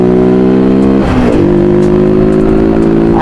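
A motorbike on a steep mountain road near Shimla roars loudly and close, its engine note dipping and then revving back up through a sharp 90-degree bend.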